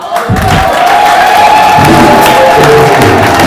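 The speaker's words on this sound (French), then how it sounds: "Est-ce qu'on peut applaudir Jésus?" A church conference audience claps and cheers loudly, a sustained roar of applause and voices that stays at full level, with a held tone ringing through the crowd noise.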